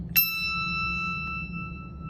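Three handbells held in one hand are rung together across three octaves, giving one bright, clear strike with pure ringing tones that sustain and slowly fade, heard close in a quiet room.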